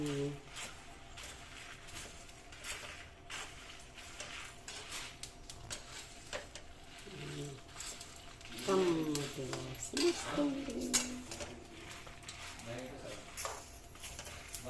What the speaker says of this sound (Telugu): ఇలాగా మిరపకాయలు కూడా ఇలా వేయించుకోవాలన్నమాట.